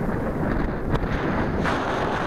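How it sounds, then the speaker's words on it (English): Gusty wind at a soccer field buffets the microphone, a loud, rough rumble with low-frequency bursts and no talking. "And actually it's pretty windy."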